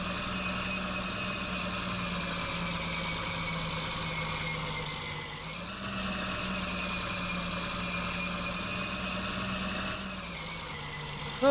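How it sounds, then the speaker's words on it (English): A tractor in Farming Simulator 19 runs quickly at around 32 mph, its engine holding a steady loud drone with a brief dip in pitch midway and another shift near the end, with no voices. "I will say this tractor is nice and quick, though. It goes 32 miles per hour"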